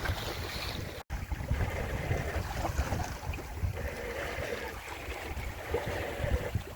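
A sailboat under way in a light wind at about sixty degrees to it, with steady broadband water wash and wind noise across the hull and sails, one brief dropout early on, no voices.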